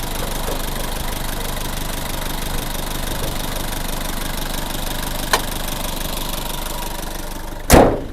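A 1999 Nissan Frontier pickup, a cattle-hauling truck, idles steadily and close by for about eight seconds, with a brief tick midway and a loud thump near the end.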